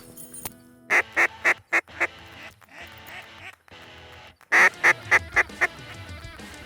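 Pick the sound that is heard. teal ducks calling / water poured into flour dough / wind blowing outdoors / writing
teal ducks calling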